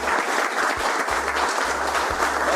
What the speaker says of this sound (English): How about a round of applause for Joe?